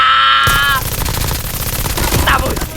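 Rapid gunfire bursts from a video game battle, loud and dense, with repeated shots rattling across most of the stretch amid game effects.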